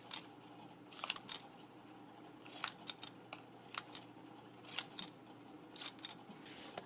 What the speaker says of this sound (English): So that's how you cut up scrap paper.